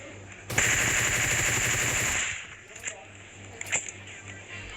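A sustained burst of rapid automatic gunfire in PUBG Mobile for about two seconds, followed by a few scattered single shots and a metallic ping.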